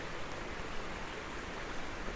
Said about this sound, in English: Just love this slowly flowing water,